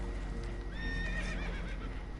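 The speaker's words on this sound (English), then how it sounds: "Horses are spooked" Spooked horses in Red Dead Redemption 2 whinny and neigh shrilly aboard a damaged boat, with hooves clip-clopping beneath and rolling ambient noise underneath.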